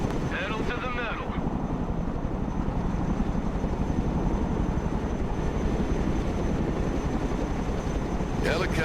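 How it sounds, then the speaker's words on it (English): Helicopters flying in the Broken Arrow real-time strategy video game, a steady, loud rotor roar with fast thudding blade pulses that continue throughout, heard close and alone. "Helicopters are impressive machines. Boy, are they noisy."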